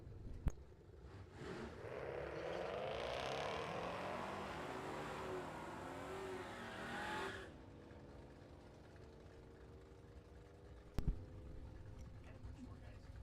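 Drag race run between a Mustang Cobra and a 2013 Camaro, a loud roaring engine pass rising and sweeping for several seconds, then fading to a distant drone with a brief sharp knock near the end; announcer talk runs over it.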